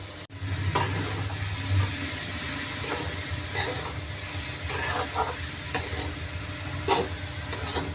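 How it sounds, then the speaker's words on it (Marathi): Spring onion greens sautéing with dried fish (sukat) in oil, a dense continuous sizzle with occasional stirring scrapes and clicks of a spoon against the pan, close and steady throughout. "भाजी 5 मिनिटं चांगली आपण परतून घेऊ"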